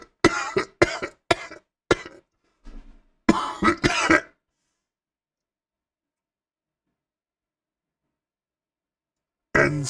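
A cough run through a General Grievous voice effect in Reaper: several sharp, rasping cough bursts close together, then a few longer harsh ones, followed by long silence and a final burst at the end.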